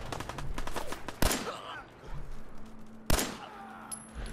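Fallout 4 gunshots, two sharp, loud cracks about two seconds apart, each followed by a short echoing tail, with rapid clicking and ambient game sound between them.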